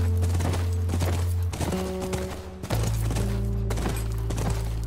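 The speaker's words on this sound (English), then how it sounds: "with this little horse riding sequence" Horse hooves clip-clop steadily during a riding sequence in the video game The Last of Us, loud and close over a droning low hum, with a brief dip midway.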